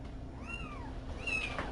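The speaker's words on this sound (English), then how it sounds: "And their mother is Sable, who is a feral cat who was brought in at the very last minute" A feral cat, a very pregnant female brought into a rescue, gives two drawn-out meows, the second louder and rising, close by over a low steady background hum.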